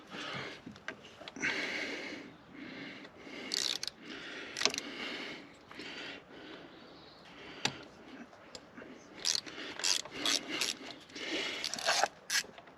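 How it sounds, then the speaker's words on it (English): Wrench work on bolts around a Volkswagen water pump in an awkward, cramped spot, heard as irregular ratcheting clicks, metallic ticks and scrapes close by, with no talking. "you're not going to be able to see me undo these bolts because it's just in an awkward spot"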